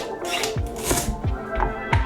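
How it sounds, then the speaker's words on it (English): Kitchen knife julienning bias-cut carrot slices on a cutting board, a few sharp close chops in an uneven rhythm, with faint talk in the background. "What I like to do is cut it on a bias, fan it out, and then go ahead and julienne it."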